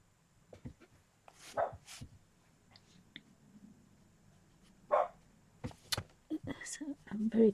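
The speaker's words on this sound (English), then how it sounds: "What on earth is he barking at now?" A dog barks in a few short, sharp bursts indoors, close and fairly loud, separated by quiet gaps, with scattered small handling noises between barks.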